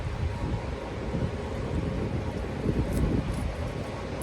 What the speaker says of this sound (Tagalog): Mahangin ngayon, buti wala masyadong alikabok